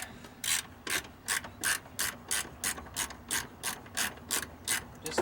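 Husky ratchet from a tool kit loosening 10 mm bolts on a Ford truck clutch pedal, about a dozen evenly spaced clicking strokes in a steady back-and-forth rhythm, close and clear with no talk.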